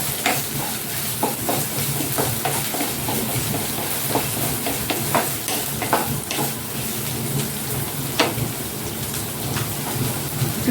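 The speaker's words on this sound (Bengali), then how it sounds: "লঙ্কাটা আমি একটু নাড়াচাড়া করবো।" Green chillies and ginger paste fry loudly in a hot pan. A dense, continuous crackle is broken by sharp spatters and scrapes as they are stirred, with no voices.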